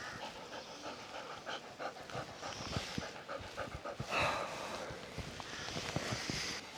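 A dog in the Everest region panting close by: quick, rhythmic breaths repeated steadily throughout, fairly faint, with light ambient background and no clear talk.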